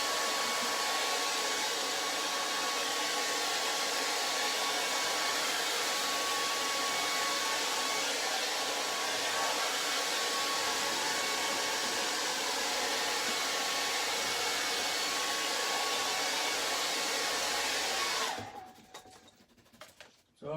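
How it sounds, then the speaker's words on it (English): A handheld hairdryer blows steadily on a charcoal and acrylic portrait painting, a loud, constant whooshing roar that runs for nearly the whole stretch before cutting off abruptly near the end. "My wife's just going to use the hairdryer,"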